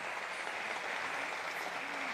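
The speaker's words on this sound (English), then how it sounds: "Please give a huge round of applause to the entire team and the Guru Ananda Shankar Jayant" An audience at Ravindra Bharathi applauds a dance team, a continuous even wash of clapping with no break, heard faint and somewhat distant.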